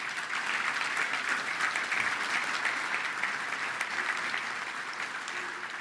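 A standing crowd at a Little Rock Touchdown Club gathering applauds the club's founders and board of directors with steady, sustained, dense clapping that stays even from start to finish.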